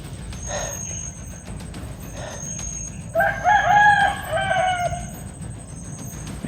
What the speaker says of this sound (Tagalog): May mga manok na nanliligaw mga tol, no?